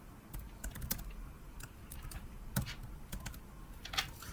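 Computer keyboard typing while writing C# code: quiet, irregular key taps in short clusters, close by over a low background hiss, with no talking.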